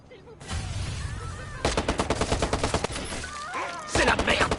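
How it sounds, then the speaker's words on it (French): Video game gunfire in a shooter, with rapid repeated shots and bursts of automatic fire crackling in clustered volleys, loud and dense, with a short voice in between. "Quelqu'un tire, il risque d'y avoir des blessés."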